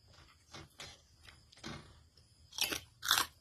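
Crunchy pork rinds eaten with sticky rice, giving a few close, crisp bites and chews that grow louder toward the end, with two strong crunches in the final second.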